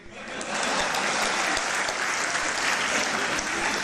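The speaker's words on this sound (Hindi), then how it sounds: "उस पर आपकी तालियां उठनी चाहिए" Audience applause at an agricultural, labour and cooperative sector honours ceremony in Bhilai, steady dense clapping that swells after a brief start and holds loud and full throughout.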